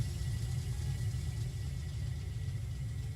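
A truck engine idles in the Eco video game, a steady, low, even rumble that holds at a constant level throughout without revving.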